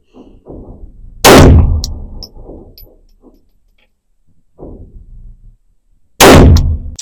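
Two sharp, very loud handgun shots fired on a range at 3 yards, several seconds apart, each a close crack with a short ringing tail, with a voice talking quietly between them.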